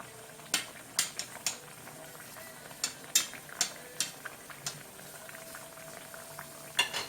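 Onions sweating in a pan give a soft, quiet sizzle, broken by scattered sharp taps and scrapes of a utensil against the pan at irregular intervals, with no voices.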